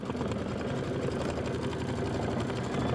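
Embroidery sewing machine stitching a Kimberbell Hello Sunshine bicycle quilt block, a steady, continuous mechanical whirr with fast rhythmic needle clatter running unbroken throughout at moderate loudness.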